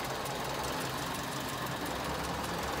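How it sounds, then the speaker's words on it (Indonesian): A Ford Laser car engine idles with a steady, even hum and a faint mechanical ticking underneath. It stays constant and close with no voices. "Mesinnya halus ya. Mesin suara masih halus."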